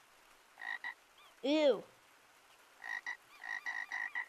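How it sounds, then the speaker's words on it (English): A frog in the VR game Gorilla Tag lets out a single loud, wobbling croak, set among short repeated chirpy game tones before and after, with a brief exclamation from a person. "A frog."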